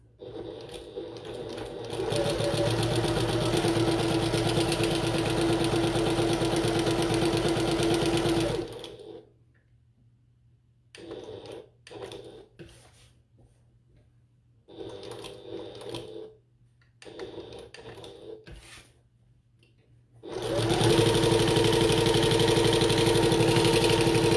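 A sewing machine stitches a fabric bucket tote at a 2.5 stitch length: a long steady whirring run, then several short stop-and-start bursts while pivoting at corners, before another sustained stretch of stitching.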